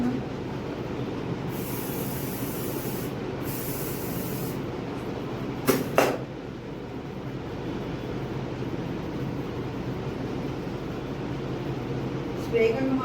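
A handheld water spray bottle misting a cauliflower plant, giving short hissing bursts over steady background noise while someone talks nearby.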